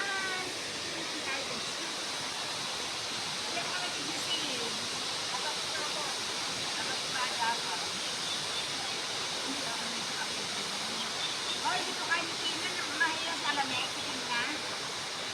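Water flowing and babbling steadily in a stream at a Liliw resort, a soft continuous rush heard close by with faint voices and small splashes now and then.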